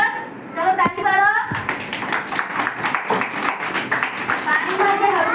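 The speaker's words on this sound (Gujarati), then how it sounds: "ચલો તાળી પાડો." A group of children at an anganwadi claps their hands together, giving dense, rapid, overlapping claps that carry on for several seconds. A voice speaks briefly just before the clapping starts.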